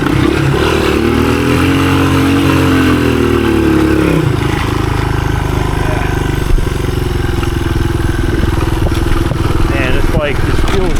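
A 1983 Honda XR200R trail motorcycle revs up and then settles into a steady fourth-gear cruise through woods, its engine loud and close, with a rider talking over it.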